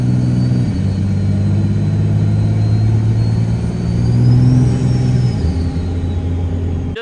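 A 1000 HP Cummins diesel truck cruises near 60 mph on light throttle at about 1800 RPM with 15 pounds of boost. It gives a steady, loud low engine drone with road rumble that swells slightly midway, and no one speaks.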